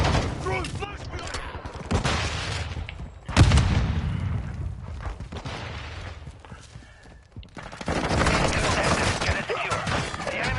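In the video game Modern Warfare 2, a thrown flashbang grenade goes off with a sharp, heavy bang partway through, amid dense gunfire and loud battle noise that keep going around it.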